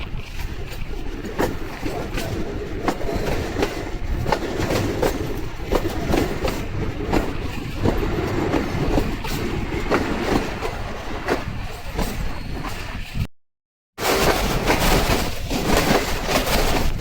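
The 10 down Allama Iqbal Express travelling from Sialkot to Lahore rumbles along the rails in a steady loud roar with rhythmic clacking of wheels, heard from aboard the train, broken by a short dropout near the end.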